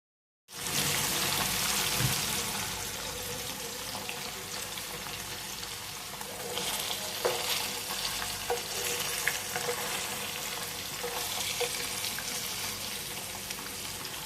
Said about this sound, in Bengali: এবার আমি তেলটা গরম করে পনিরটা ভেজে নেব।